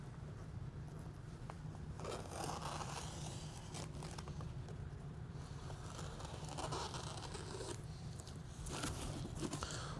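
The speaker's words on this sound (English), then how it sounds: "then take my scissors and trim it to fit" Scissors cut and trim Rosco reflector material laid on a cardboard box, a close series of crisp snips and scraping rustles over a steady low background.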